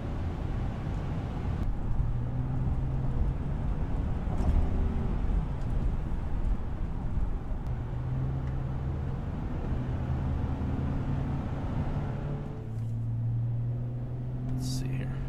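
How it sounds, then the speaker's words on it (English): A Chevrolet Trailblazer engine idles steadily after a throttle body cleaning and a K&N air filter upgrade, a continuous low rumble with fluctuating tone and airy intake noise throughout, fairly close. "So it does change the tone of the engine a little bit."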